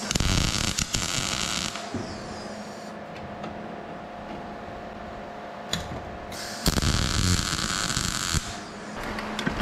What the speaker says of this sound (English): we're gonna go ahead and tap this on around and keep on welding